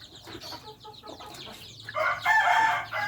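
Chickens and chicks in a backyard coop clucking and crowing close by, a scatter of short calls followed by a louder drawn-out rooster-like cry near the end.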